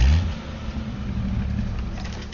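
A car engine in a video game drones steadily at a constant pitch for a couple of seconds, with a slightly louder start and no voices.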